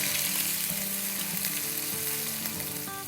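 Garlic paste and the white part of green onions fry in a hot pan for a chicken biryani, giving a steady loud sizzle with scraping stirring strokes, close and without talk.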